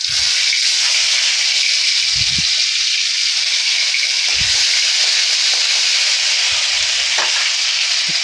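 Panch phoron and ginger paste sizzle and fry in hot oil in a home kitchen, a steady bright crackling hiss with a few soft stirring clunks and pops.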